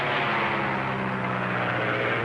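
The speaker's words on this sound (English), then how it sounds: "Listen. It's an airplane." Airplane passing overhead, a loud, steady, broad engine roar filling the whole span without a break, close and sustained with no voices.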